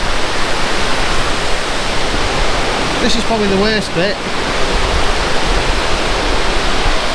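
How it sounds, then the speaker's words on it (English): A waterfall in the Peak District roars as water rushes down, a loud and unbroken broadband rush that fills the whole scene while a person speaks briefly over it. "listen at the power of that water coming down there"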